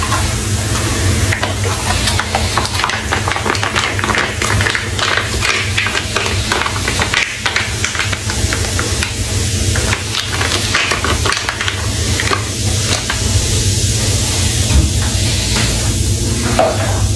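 Wine kit ingredients being stirred in a fermenter, a steady wet swishing and hissing churn that runs continuously and fairly loud for the whole stretch, with no voices over it.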